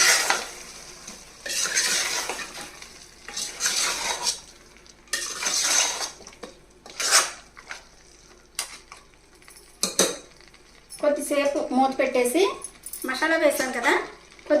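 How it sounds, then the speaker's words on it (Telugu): Scraping and clinking of a spoon stirring Andhra-style mutton and potato curry with masala in a pan, in irregular bursts with short pauses, over a faint sizzle. "ఇప్పుడు ఒకసారి బాగా కలిపేయాలండి"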